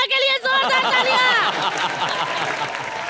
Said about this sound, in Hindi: और हमारे धारावी के प्रभु देवा के लिए जोरदार तालियां।